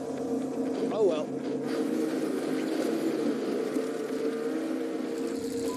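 A side-by-side utility vehicle's engine drones steadily as it tows a load through deep, drifted snow near an icy shore, running continuously under people talking.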